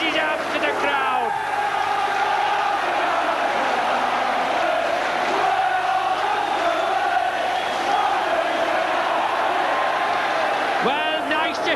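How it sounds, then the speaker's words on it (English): Rugby league crowd at St Helens versus Warrington roaring and cheering after a long-range try, a dense, loud, sustained wall of voices with commentary-like talk mixed underneath. "nice to hear the popular side crowd there"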